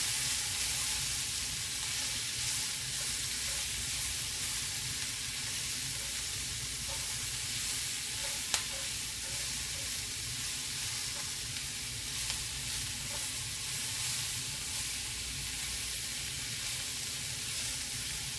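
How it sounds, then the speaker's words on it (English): Onions and mushrooms frying in a pan for chicken stroganoff, a steady close sizzle and hiss with occasional stirring scrapes and faint pops, continuous throughout with no talk. "we're cooking the onions and the mushrooms until the mushrooms release all their moisture"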